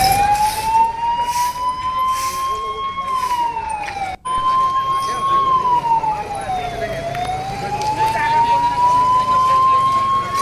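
A fire engine siren wails at night as crews arrive at a building fire in Kanpur. The loud, continuous tone rises and falls slowly over steady background noise, with one brief dropout partway through.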